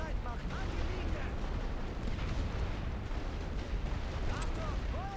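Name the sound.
artillery fire in the video game The Great War: Western Front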